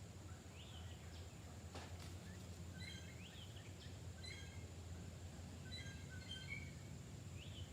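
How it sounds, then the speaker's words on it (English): Unusual bird calls outdoors, faint and distant: scattered short chirps and rising whistled notes recur in loose, irregular bursts over a soft, steady background hiss. "That's an unusual bird sound."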